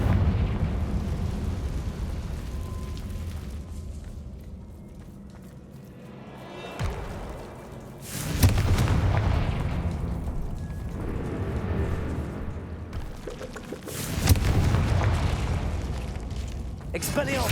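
Blasting-spell explosions in Hogwarts Legacy, a few heavy booming bursts spaced several seconds apart, deep and loud, each rolling out into a rumbling tail over a low game ambience.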